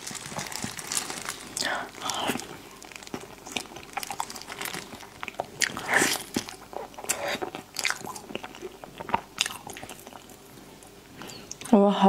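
Durian being bitten and chewed close to the mic, with repeated wet bites, squishy chews and crinkling of a wrapper or packaging, while people talk quietly throughout.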